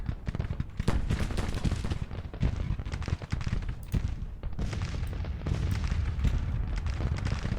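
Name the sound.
artillery fire in video game Grand Tactician Civil War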